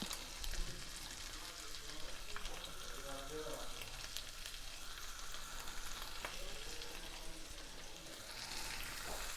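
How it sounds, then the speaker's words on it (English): Shrimp hit a hot pan over high heat for spring rolls, producing a faint but constant hissing sizzle with a few soft pops and clicks, heard fairly distant and without much variation. "So I'm putting the shrimp in the pan."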